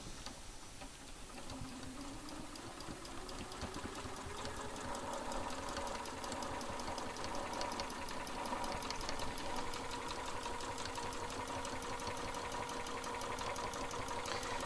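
A sewing machine stitches steadily through a quilt with an even, rapid mechanical whir and tick that holds throughout at close range, with no talk over it.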